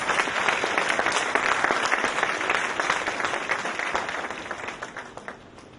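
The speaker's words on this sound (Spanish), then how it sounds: "dale un aplauso al Rey de Reyes" A church congregation claps in a full, steady burst of applause that fades gradually over its last seconds.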